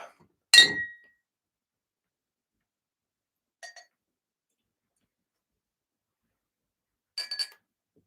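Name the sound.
glass clinking as glasses are handled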